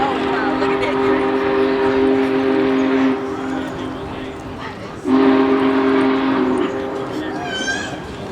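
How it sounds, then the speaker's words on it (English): Union Pacific Big Boy 4014 steam locomotive sounds its deep chime whistle in two long sustained blasts from a distance as it approaches, with crowd noise and talk around it. "the sound of the approaching whistle indicates the train is about 15 minutes ahead of schedule"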